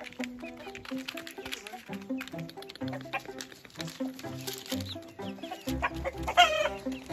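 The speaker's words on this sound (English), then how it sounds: "we got old chicks and we got baby chicks" Adult hens and baby chicks cluck and peep together in a busy, continuous chorus, close and fairly loud, with some soft chirping and a rooster-like call toward the end.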